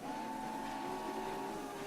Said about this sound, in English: Wait for the whistles.